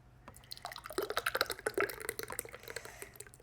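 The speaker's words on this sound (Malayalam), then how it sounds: "പിന്നെ ഞാൻ അമ്മയ്ക്ക് ഒഴിക്കുകയാണ്." Homemade juice with pulp is poured into a glass, giving quick, close dripping and splashing splatters that are quiet and come alone without talk.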